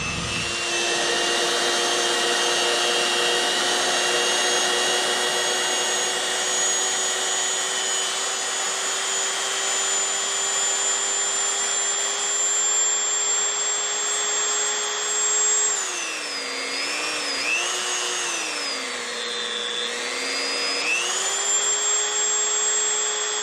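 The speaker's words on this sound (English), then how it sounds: "So we're going to turn the Dremel on and see how that changes." A Dremel rotary tool powered from a Power Smart 5150 portable power bank whines at a steady high pitch close by, then its speed dips and wavers briefly before settling back, with no talking.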